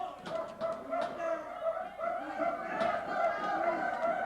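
A Detroit wrestling crowd imitates barking dogs, a chorus of rough woofing voices and chatter rising and falling continuously at a moderate distance.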